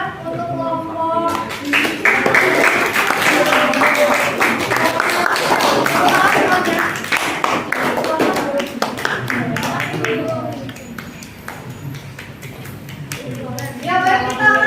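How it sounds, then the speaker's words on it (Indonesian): A classroom of students applauds a student group after its presentation, many hands clapping in a loud, dense burst lasting several seconds before thinning out, with a teacher's voice speaking at the start and the end. "kita beri tepuk tangan untuk kelompok"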